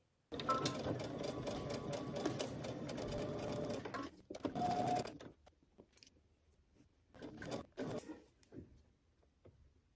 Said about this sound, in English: head to your sewing machine and you're going to edge stitch around your pocket